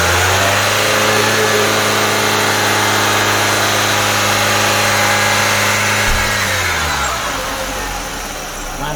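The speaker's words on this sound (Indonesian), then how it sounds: "Ini saya gas 2000 RPM, Pak." A Nissan Serena C24 engine hums smoothly at a steady 2000 RPM for several seconds, then the pitch drops as it settles back toward idle. Loud and close, with no talking.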